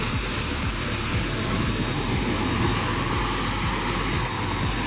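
An aircraft engine runs close by on the ground at an airport in Flores, a loud, steady roar with a rhythmic propeller-like throb and a high whine, continuous throughout with no voices.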